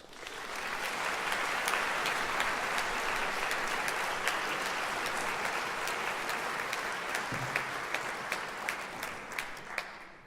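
An audience in a concert hall applauds to welcome performers of Soviet Jewish wartime songs onto the stage, with dense, sustained clapping that runs steadily for about ten seconds and has a few sharper individual claps standing out.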